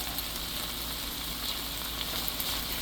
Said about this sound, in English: we're going to saute these down just for a little bit